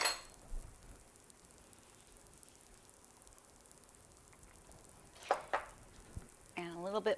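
Loaded baked potato soup simmers in a pot with a faint, steady bubbling sizzle, broken by a few clinks of a utensil against the pot and a short voice near the end.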